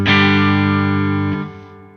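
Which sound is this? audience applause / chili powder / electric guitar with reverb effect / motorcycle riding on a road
electric guitar with reverb effect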